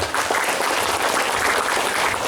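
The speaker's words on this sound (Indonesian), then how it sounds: "Tepuk tangan buat dua penanya hari ini" An audience of Islamic boarding school students claps for two questioners at a motivational talk, a steady, moderately loud burst of applause throughout.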